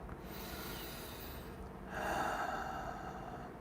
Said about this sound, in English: we take a big deep breath